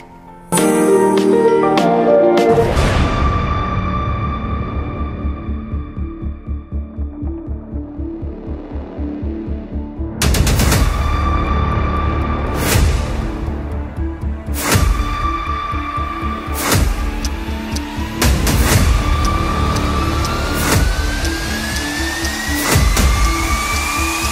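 A 2000 cc four-cylinder engine in a Mercedes-Benz CLS350 AMG (C257, M264) starts, then idles with a steady throbbing hum, followed by repeated rising revs and a climbing whine, loud and close.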